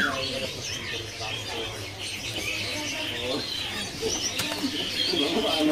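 A young sempur bird in a bird-seller's kiosk gives short calls and chirps that sit under the shop's background bustle and nearby talk.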